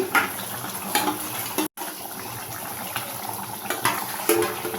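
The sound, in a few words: stirring rice flour into water to dissolve it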